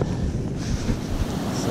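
Big ocean waves crash on an Atlantic beach near St Augustine Beach Pier, a dense continuous roar of surf mixed with wind buffeting the microphone.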